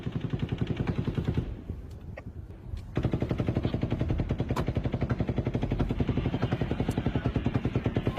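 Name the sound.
gunfire from multiple types of weapons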